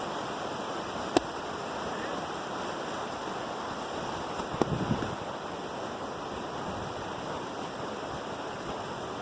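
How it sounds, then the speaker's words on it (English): Waterfall at Gooseberry Falls, a steady broadband rush of falling water that holds level throughout, heard from a moderate distance, with a couple of brief knocks and no talking. "That is what we are looking at today with the waterfalls."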